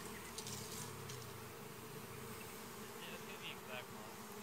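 Honey bees buzz in a steady, faint swarm around bee boxes at a honey centre, a continuous drone with occasional closer fly-bys and no talking.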